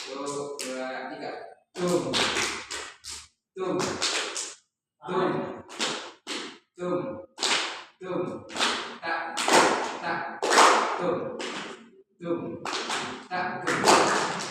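A group of students in a classical music lesson clapping hands together on cue, sharp separate claps in a loose rhythm, alternating with a teacher's speech.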